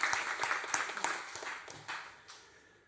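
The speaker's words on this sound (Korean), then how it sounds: "하나님께 이제 다 같이 한번 영광의 박수 돌려드리겠습니다" Church congregation clapping together during a Thanksgiving Sunday service, a burst of rhythmic applause that thins out and fades over a few seconds.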